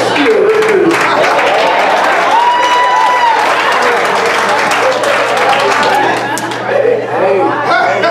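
A church congregation claps and applauds at a service, the steady clapping blending with crowd chatter, cheering and voices for the full stretch.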